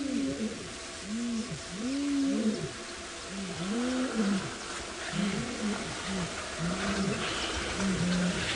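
A lion that is not an adult male roars at dawn on an African safari drive: a rhythmic series of repeated deep grunting calls, moderately distant, over faint bird and bush ambience.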